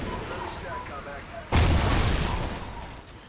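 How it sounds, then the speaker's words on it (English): Gunfire in Call of Duty Ghosts: a sudden loud blast breaks in partway through, followed by booming, rumbling shots that gradually fade, with voices talking underneath. "Look out, they're shooting at you."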